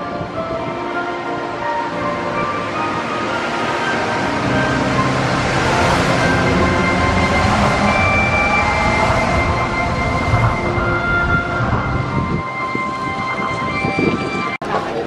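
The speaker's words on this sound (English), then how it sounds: "Oh, that was a fun monorail ride." The Tokyo Disneyland monorail runs with a steady rumbling rail hum and a rising and falling electric whine, close and continuous, while people talk quietly in the car.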